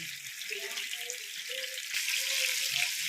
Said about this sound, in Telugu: ముందుగా మనం కొన్ని ముక్కలు వేపుకుందామండి వేపుకున్న తర్వాత మిగతా ముక్కలు వేపుకుందాం